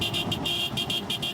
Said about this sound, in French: une autre compétition démarre. Une course de 6 km que les propriétaires des dromadaires suivent de très près au volant de leur 4x4